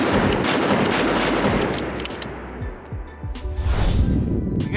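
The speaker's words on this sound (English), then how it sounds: "I'm gonna shoot five more at this little itty bitty hanger target at 500." Continuous loud rifle fire and blast echo from a Howa 1500 in 6mm Creedmoor on a long-range range, with heavy rumbling reverberation and wind noise filling the whole stretch.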